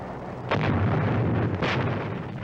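Bombs exploding during the 1945 battle of Corregidor, two heavy booming blasts rising out of a dense, continuous rumbling roar in an old wartime recording.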